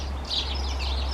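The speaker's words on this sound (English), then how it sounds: "all the birds are singing, all excited" Spring birdsong outdoors in warm weather, likely house sparrows and other garden birds, with bright high chirps and tweets over a constant low rumble, brief and fairly loud.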